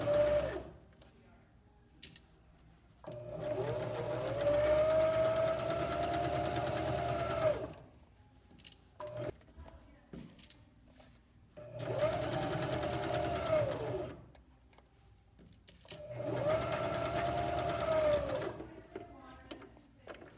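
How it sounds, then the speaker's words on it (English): A sewing machine back stitches the seam of a small tote bag, running in three steady whirring bursts of several seconds each, separated by quiet pauses. "I'm going to make sure I'm going to back stitch when I begin and when I end too"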